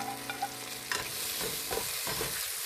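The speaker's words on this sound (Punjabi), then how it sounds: "ਹੁਣ ਸਬਜ਼ੀਆਂ ਨੂੰ ਕੁੱਕ ਹੁੰਦੇ ਹੋਏ ਅੱਧਾ ਮਿੰਟ ਹੋ ਗਿਆ।" Vegetables sizzle in a hot pan while being stirred for restaurant-style sambar, a steady close frying hiss broken by a few scraping stir strokes, with no voices.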